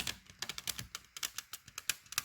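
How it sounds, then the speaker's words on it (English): A deck of tarot cards is riffle shuffled: a quick run of crisp, close clicking flutters as the cards interleave, fairly quiet and evenly spaced. "I'll try and do a riffle for you. Not that I'm very good at riffle shuffling."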